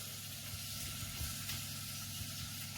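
Onions browning in a pan for stuffed chicken, giving a soft, steady sizzle and frying hiss. It sounds faint and even, with no talk over it.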